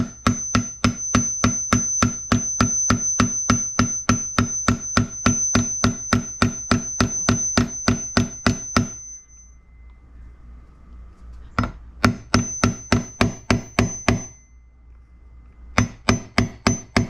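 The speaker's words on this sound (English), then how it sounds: "You don't want to hammer on actual gear." A homemade 3/4-inch CPVC pipe tool being hammered down onto a gearbox gear during a gearbox repair, producing rapid, loud, evenly spaced metallic blows in long runs broken by short pauses.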